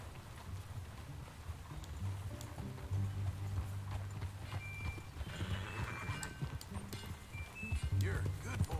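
Horse hooves galloping in Red Dead Redemption 2, a fast rhythmic clip-clop close by that runs throughout, with a brief whinny and voices talking over the riding.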